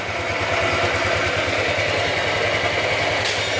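A car engine idles steadily at close range in a repair setting while being checked for overheating, a low even rumble holding throughout the short stretch.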